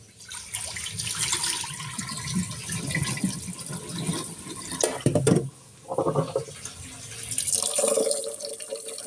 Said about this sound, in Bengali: এখন ভালো করে ধুয়ে ভাত ভাতটা বসিয়ে দেব